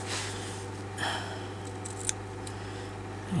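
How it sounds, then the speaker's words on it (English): Scissors snip off a small piece of paper trim on a journal page: a couple of short, crisp cuts, close and distinct against a quiet room hum. "Cut that bit off."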